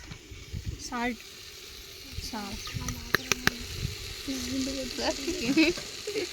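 Spices frying in a pan as they are stirred, giving a quiet, close sizzle with scraping and clinking of the spoon against the pan. Someone speaks softly over the cooking.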